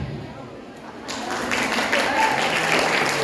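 Audience applause after a seventh-grade school drama performance at a festival, dense clapping that starts moderately and builds into a steady loud wash over about three seconds.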